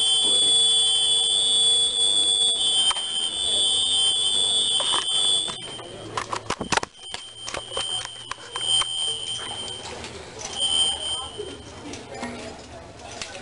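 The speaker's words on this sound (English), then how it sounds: "this alarm was activated by this notifier, BG12L pole station" A loud school fire alarm, set off from a Notifier BG12L pull station during a fire drill, blares continuously, then cuts off; clicks and clatter follow, with people talking in the background.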